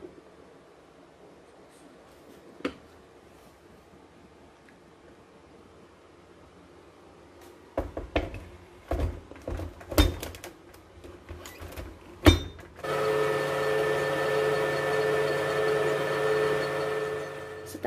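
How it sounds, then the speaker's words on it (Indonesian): Cooked potatoes go into a blender in a home kitchen. Scattered knocks and clatter come first, then the motor starts as a loud, steady whirring drone that runs to the end. "Kentangnya di blender."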